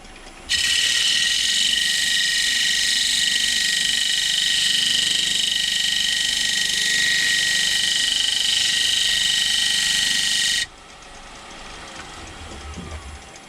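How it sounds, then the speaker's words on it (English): A wood lathe scraper cuts cedar with a steady, loud, high-pitched whine that holds for about ten seconds and then stops abruptly, leaving quieter workshop hum. "Now I'm going to use what they call a scraper, and I'm going to use that to get a little more finer detail on this."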